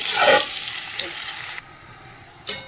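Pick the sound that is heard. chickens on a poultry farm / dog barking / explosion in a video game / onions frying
onions frying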